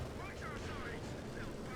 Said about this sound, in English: Ostwind dealing with the aircraft, firing away there.